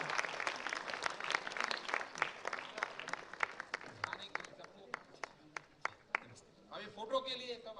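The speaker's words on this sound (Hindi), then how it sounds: "एक बार जोरदार तालियों से हम मनोज जी को ये उम्मीद" An auditorium audience claps loudly at first, then the applause thins to scattered individual claps before a voice speaks near the end.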